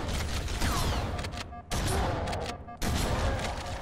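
Shotgun blasts in the shooter game Halo CEA, heavy and close, fired in quick succession within constant noisy combat, with brief pauses between bursts.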